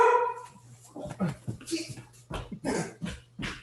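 Dogs bark in short, sharp bursts at home during a virtual committee meeting held because of the COVID-19 pandemic, and people talk between the barks.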